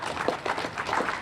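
Audience applause at an outdoor Juneteenth flag raising in New Bedford, a short burst of brisk clapping from a small crowd, moderately loud with no talk.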